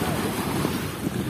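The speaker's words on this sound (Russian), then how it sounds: "Шум волн вот этот." Steady wash of Andaman Sea waves breaking on Batu Ferringhi beach in Penang, Malaysia, a loud continuous surf roar with some wind buffeting the microphone.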